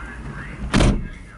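The door of a 2008 Smart ForTwo Cabrio shuts with a single solid thump, close and loud, over a faint steady background hum.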